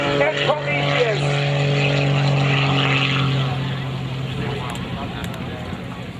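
Skip Stewart's aerobatic propeller biplane Prometheus flies low at the 2011 Battle Creek airshow, a loud steady engine drone with a strong harmonic whine that holds near, then eases slightly as it moves off, with crowd noise beneath.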